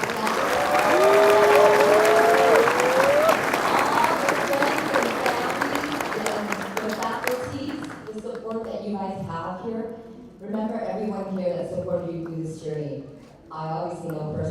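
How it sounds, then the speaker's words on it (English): Graduation audience at a law school ceremony in a hotel ballroom giving loud sustained applause that fades out, followed by someone speaking. "This is a big round of applause for you guys."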